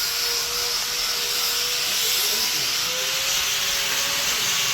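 A batasa sugar candy making machine runs steadily with a continuous broad mechanical whir and hiss, a faint tonal whine drifting through it, unbroken for the whole stretch with no talk over it.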